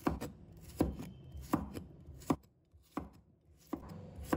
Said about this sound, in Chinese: 再准备1把大蒜，把它切成片